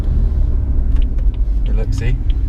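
A BMW M140i fitted with a BCS Powervalve exhaust drives along a runway, a low steady rumble running under a person talking.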